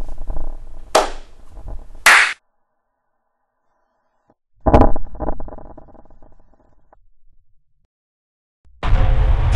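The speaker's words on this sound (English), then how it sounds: "when I clap my hands in different ways," Hands clapped in different ways: a handful of sharp, separate claps, some single and some in quick pairs, with clear silent gaps between them and a final burst at the end.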